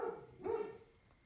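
A dog barks once in a short, fairly faint burst somewhere off in the room, followed by quiet background.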